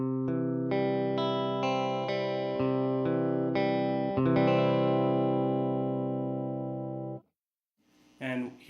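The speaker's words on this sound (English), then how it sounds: "So here's the dry signal." An electric guitar played dry through a Tweed tube amp with no reverb rings out a string of strummed chords that sustain and then stop, followed by a brief burst of talking at the end.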